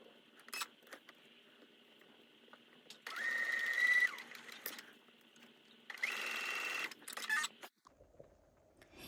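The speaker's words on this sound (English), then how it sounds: "then we're going to sew from towards the top, shorter, down, and you can eye through the center and then down to the bottom" Sewing machine stitching quilt binding in two distinct bursts of rapid close whirring, separated by quiet pauses and small handling clicks.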